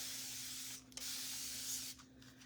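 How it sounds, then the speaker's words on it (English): Spray bottle misting the sticky side of a reusable adhesive sheet, two long hissing bursts with a brief pause between, close and faint, with no talking. "flip it over so the sticky side is up, spray it down again"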